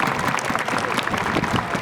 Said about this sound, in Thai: ขอเสียงปรบมือดังๆต้อนรับท่านนายกองค์การบริหารส่วนจังหวัดนะครับ